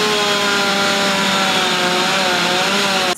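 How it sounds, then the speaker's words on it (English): A chainsaw roars at high revs, loud and close, with a steady whining engine tone as firefighters cut into a house roof during a fire, cutting off abruptly at the end. "crews working to get inside the attic with a chainsaw"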